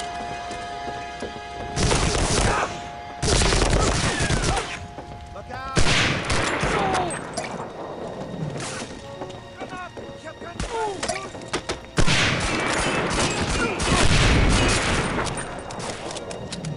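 MG42 machine gun fire in Medal of Honor: Allied Assault, loud sustained bursts broken by short gaps, mixed with other battle noise, with a voice talking over parts of it.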